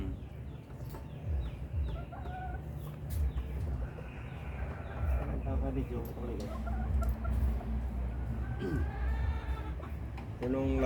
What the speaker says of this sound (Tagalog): Nagbibitiw ka rin ng manok mo